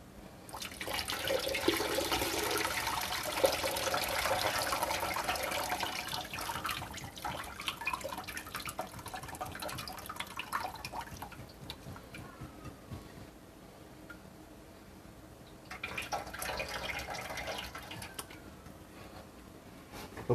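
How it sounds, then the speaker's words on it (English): Pasta drained in a kitchen sink: a steady rush of pouring water splashes for several seconds, tapers to a quieter trickle, then a second brief surge of pouring near the end, close and with no talking. "Drain this pasta."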